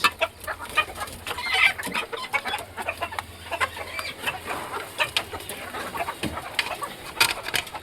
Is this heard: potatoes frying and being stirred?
no